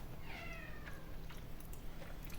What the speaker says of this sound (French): Il y a un chat qui veut sortir